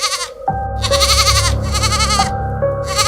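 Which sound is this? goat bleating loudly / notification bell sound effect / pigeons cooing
goat bleating loudly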